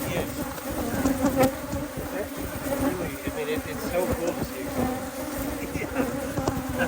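Honeybees in swarm mode buzz densely around an open beehive during an inspection, a steady close hum that continues under conversation.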